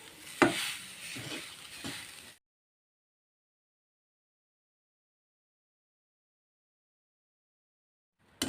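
Coconut mixture fries and is stirred in a hot wok for coconut laddu: about two seconds of close sizzling with scraping stir strokes, then silence, with a brief click at the very end.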